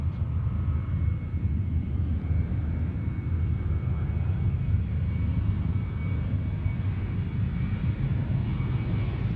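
A heavy jet airliner arrives at Sydney Airport, its engines a steady, loud, low rumbling roar that holds without a break, heard from the ground with no talk.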